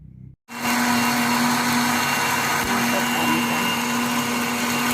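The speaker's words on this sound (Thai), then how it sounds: "แล้วเราค่อยเอาไปปั่น" A blender grinds overnight-soaked beans for making five-color bean milk, starting abruptly after a short pause and then running loud and steady with a constant motor whine.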